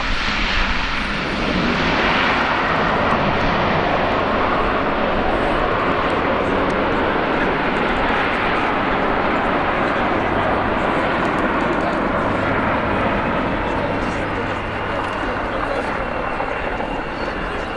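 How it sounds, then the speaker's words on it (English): An Airbus A400M four-turboprop military transport flies an air show display, its loud, steady propeller drone filling the whole stretch with a continuous broadband roar. "Here is Airbus Defence and Space A400M."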